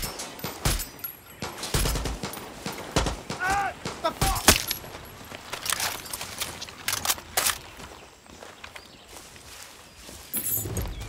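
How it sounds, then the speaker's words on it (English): Sharp bursts of gunfire ring out during a combat scene in the video game Far Cry 6, several scattered shots and short volleys at varying distances with footsteps, movement and brief voices between them. "I heard gunshots."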